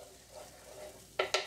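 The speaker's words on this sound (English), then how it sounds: "Onions in. Just till they start going translucent." Onions sizzle softly in a pan with a low steady hiss, broken near the end by two sharp clicks of a utensil against the pan.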